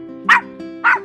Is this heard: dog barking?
yes